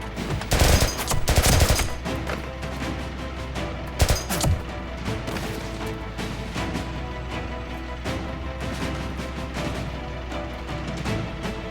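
Rapid bursts of automatic gunfire in a TV drama ambush, loud near volleys at the start and again around four seconds, then a continuing rumble of distant shooting.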